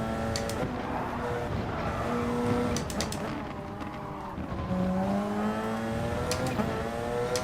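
Porsche Gr.1 race car in Gran Turismo Sport at Suzuka, engine droning steadily with shifting gear tones and brief tire squeals, continuous and close throughout.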